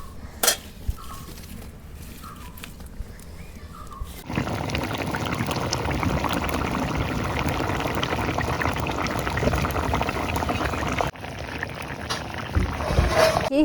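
Rohu fish and potato curry bubbles and sizzles in a covered pot over a village-style fire, a steady, dense hiss with faint clinks before and after.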